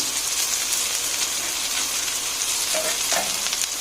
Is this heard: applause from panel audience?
no